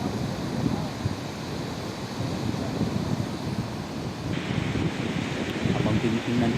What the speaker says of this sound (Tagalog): pag malakas ang hangin at malalaki yung alon